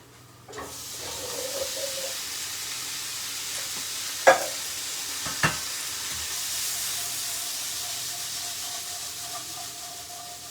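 Chickpeas fry in a pan with a gentle, steady sizzle, punctuated by two sharp utensil knocks partway through, quiet and close.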